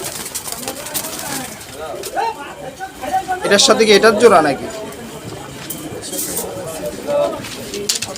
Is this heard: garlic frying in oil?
no